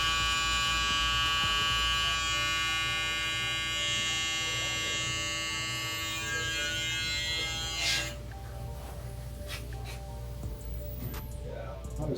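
An electric hair trimmer buzzes close by while it tidies overhanging hair during a barbershop cut, a steady whining hum that stops abruptly about two-thirds of the way through, leaving a faint background hum.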